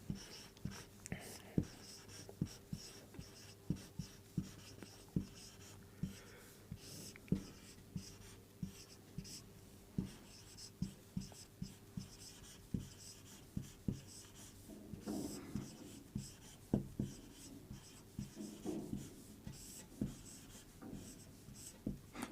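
A pen scratches across paper while working out a physics problem, a faint, close series of short strokes and taps repeating irregularly throughout, with no talking.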